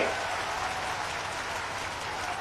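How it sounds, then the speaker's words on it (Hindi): At a political rally for Shivraj Singh Chouhan, a large crowd applauds in a dense, steady roar of clapping that holds evenly from start to finish. "तालियों की गड़गड़ाहट से धन्यवाद अर्पित करो"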